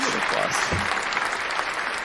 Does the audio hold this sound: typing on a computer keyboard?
no